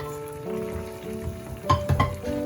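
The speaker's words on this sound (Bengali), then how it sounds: "এবার এর মধ্যে আমি মাছগুলো দিয়ে দিলাম।" Morola fish dropped into a thin, simmering curry with pointed gourd and potato in a pot, giving a steady bubbling sizzle with a brief louder splash and stir near the end, close up and without talk.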